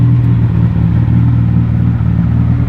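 A fully built Mitsubishi Evo 8 engine idles with its timing retarded for break-in, a loud, close, steady low rumble with a faint regular pulse throughout, alone without voices.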